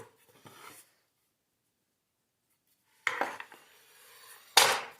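A butter knife saws through a loaf of Irish soda bread in short, close scraping and crackling bursts, with a long quiet gap between the first stroke and the later ones.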